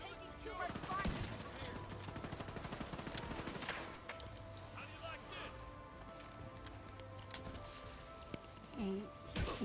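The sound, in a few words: incoming gunfire in the video game The Division 2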